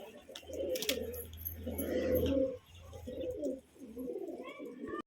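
Pigeons in a loft coo in low, repeated throaty phrases close by, with a steady murmur of several birds and a few brief sharper chirps and rustles.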